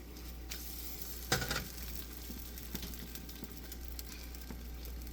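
Eggs fry in a lipped pan with a steady close sizzle, and a brief scrape and clatter comes as they are flipped.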